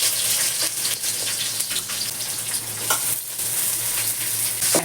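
Onion frying in oil with cloves and fennel seeds, giving a steady, loud, close crackling sizzle that runs the whole time, alone without speech.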